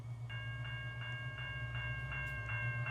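A diesel freight train in the Roblox train game Rails of Unionville sounds a steady, repeating horn in regular blasts over a constant low engine drone, with no talking.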